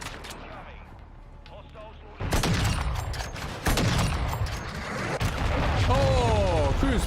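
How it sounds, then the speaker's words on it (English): Cruise missile strikes and gunfire in Call of Duty: Modern Warfare 2 multiplayer: after a quieter start, loud booming blasts hit at about 2 s and again near 3.7 s, followed by sustained rumbling explosions and crackling fire. "Oh, cruise missile. That seems slightly unfair."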